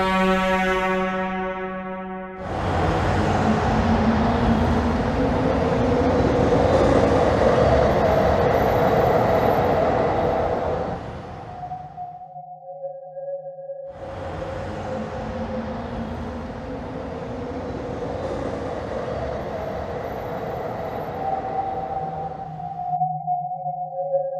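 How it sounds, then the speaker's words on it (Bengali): A cartoon train sound effect rumbles loudly as the train starts and runs, drops to a quieter idle, then surges into a second long run. "ট্রেনটা চলতে শুরু করলো।"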